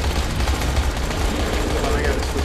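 Heavy, sustained gunfire in Dying Light, a dense burst of rapid shots packed tightly together and loud throughout the short stretch.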